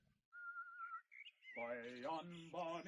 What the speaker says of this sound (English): A fellow's been whistling under my window for hours.